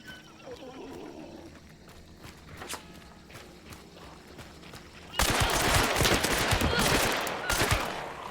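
Gunfire in the Hunt: Showdown game breaks out about five seconds in as a loud, dense burst of crackling shots. Quieter scattered thumps and footsteps come before it.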